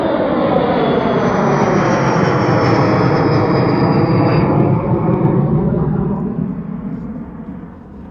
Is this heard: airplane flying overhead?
yes